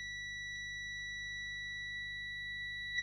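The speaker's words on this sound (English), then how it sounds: "Again, that's a solid beep." A multimeter continuity beep sounds once, short and faint, while testing a 1970s Trafalgar LED watch. A steady low hum runs underneath and no one speaks.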